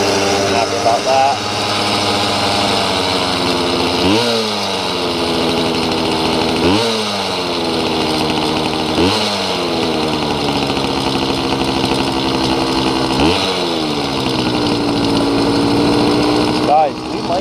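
A tuned Yamaha YD100 with a reed-valve engine idles at a steady, buzzy high pitch and is blipped up to rev several times, each rev a sharp rise and fall in pitch over the constant idle, up close and loud.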